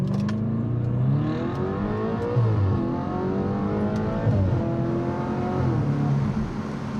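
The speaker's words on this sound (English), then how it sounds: "a really high revving V8 that sounds fantastic" High-revving V8 engine of an Audi RS5 revving repeatedly, with rising and falling pitch sweeps as the throttle opens and closes, loud and close with no talking.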